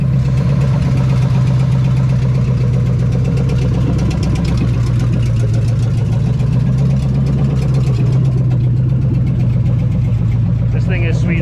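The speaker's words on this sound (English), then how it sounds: "But she's idling, she's running, sounds good." A Chevy Nova engine, running for the first time in 35 years with its choke still settling, idles loudly and steadily up close, with an even, rumbling throb throughout.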